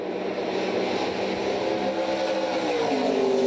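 A NASCAR Pinty's stock car engine roars steadily and loud on the track at Canadian Tire Motorsport Park, its pitch climbing as it accelerates, with no talk.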